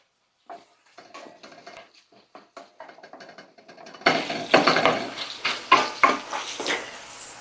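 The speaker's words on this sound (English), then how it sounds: "I'm going to let this pan heat up so we can get the onions started" Onions going into a hot pan, starting with quiet clinks and stirring noises before a sudden crackling sizzle as they hit the pan, then pops and scraping from steady stirring, close and fairly loud.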